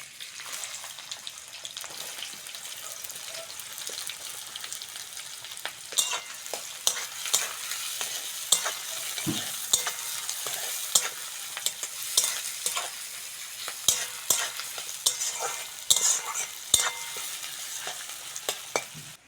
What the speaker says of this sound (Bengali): পেঁয়াজটা হালকা করে ভেজে নিয়েছি